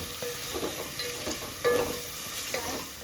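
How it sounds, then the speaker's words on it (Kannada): Onions frying in a pan for egg biryani, browning toward golden, give a steady close sizzle with soft stirring scrapes and a few louder pops, no voices. "ಸೊ ಇದನ್ನು ಗೋಲ್ಡನ್ ಬ್ರೌನ್ ಆಗೋ ಗಂಟ ನೀವು ಫ್ರೈ ಮಾಡ್ಕೊತಾ ಇರಬೇಕು"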